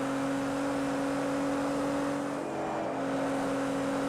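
A Nissan GTR's engine drones at a steady high pitch while racing at the Nürburgring in Project Cars 2, a constant sustained tone with no speech.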